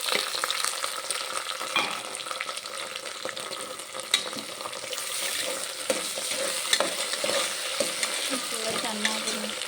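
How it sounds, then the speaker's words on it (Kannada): Potato, carrot, tomato and beans stirred as they fry in oil in a pan for vegetable pulao, a steady close sizzle with frequent scraping and clinking of the spoon throughout, no voices. "ಚೆನ್ನಾಗಿ ಮಿಕ್ಸ್ ಮಾಡಿ ಎಣ್ಣೆಗೆ ಸ್ವಲ್ಪ ಕುದಿಬೇಕು."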